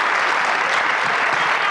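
Audience applause fills a commemoration service for Martin Luther King Jr. in Columbia, a steady, dense clapping from a large crowd that holds evenly loud throughout without any talk over it.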